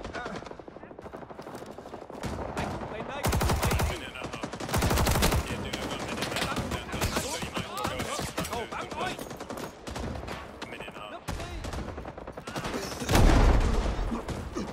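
Automatic weapon fire in the Vietnam War shooter Rising Storm 2 on the Hue City map, with a Thompson in use, sustained bursts and rattling volleys over continuous battle ambience, including a heavy close blast near the end.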